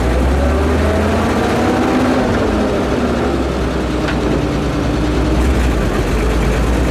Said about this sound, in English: Wait, engine go down in RPM, and here we go.